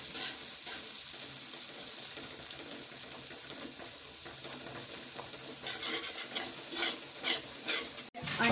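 Eggs mixed with masala frying in a pan for an aloo-anda dish, a soft continuous sizzle with scraping stirs that grows busier toward the end, close and without talking.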